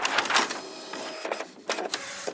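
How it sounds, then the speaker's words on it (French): A printer works through a page in close, clattering bursts of mechanical whirring and paper-feed rattles, loud and uneven with short pauses, and no voices over it. "pendant qu'elle imprime la 2e page"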